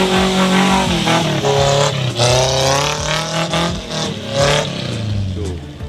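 Off-road car engine revving loud and close, the pitch rising and falling in repeated surges over a steady rumble, with faint voices underneath.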